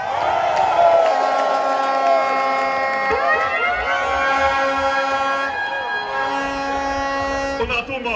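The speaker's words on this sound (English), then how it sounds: "This crowd is the biggest so far." A massive crowd cheers and whoops at an Edo State PDP governorship campaign rally, loud and continuous, with sustained horn-like tones and a voice over the din.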